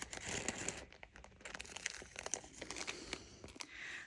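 Crisp crinkling and snipping of a thin glassine bag as zigzag scissors cut through it, a series of irregular close crackles with no talking.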